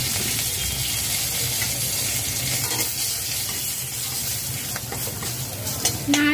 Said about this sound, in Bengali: নাড়াচাড়া করে নিলাম।